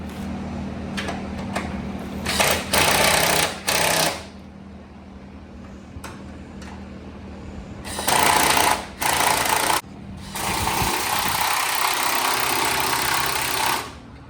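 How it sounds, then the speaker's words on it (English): A pneumatic impact wrench drives the battery bolts on a Tesla Model S, firing in repeated loud, buzzing bursts of a second or so each, separated by short pauses and a steady background hum. "she's gonna go ahead and impact all those battery bolts in"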